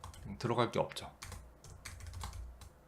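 Close, rapid clatter of computer keyboard keys in uneven bursts, with a brief snatch of voice partway through.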